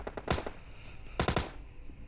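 Two short bursts of automatic gunfire from a PUBG Lite match, likely from an S12K shotgun, each a quick cluster of loud sharp shots separated by a pause, with quieter game sounds between.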